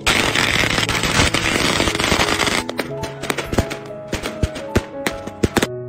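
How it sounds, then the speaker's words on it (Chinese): Strings of firecrackers go off for the first truck trip after the Chinese New Year, a dense crackling barrage of rapid bangs that thins into sharp, scattered pops near and loud. "过完年第一趟出车是要放几挂鞭炮的"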